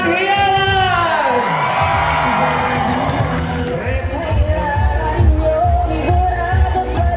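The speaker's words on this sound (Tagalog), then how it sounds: "Palakpak na may kasama ang hiyawan!" A large outdoor crowd at a campaign rally in Dagupan City, Pangasinan cheers, whoops and shouts loudly and continuously, a dense roar of voices with an amplified announcer's voice over the top.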